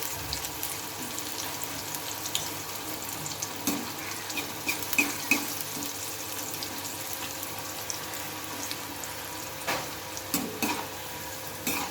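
Kucho nimki dough pieces frying in hot oil while being stirred, a soft continuous sizzle with occasional scraping clinks from the stirring, faint and close, no talk.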